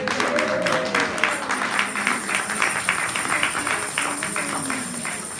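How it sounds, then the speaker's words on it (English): A church congregation applauding during a Sunday service, a brisk, fairly steady clatter of many hands that holds for several seconds. "Clap for yourselves."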